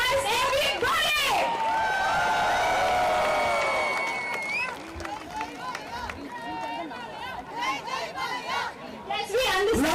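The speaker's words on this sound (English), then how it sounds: "Come on, a massive round of applause." Large crowd at a corporate opening ceremony cheering and clapping in a loud, sustained roar, with shouts and chatter throughout and a surge of whoops near the start and end.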